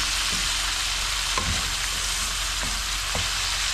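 Corned beef and bitter gourd sautéing in a pan, a continuous close sizzle with a few soft scrapes and clacks from stirring.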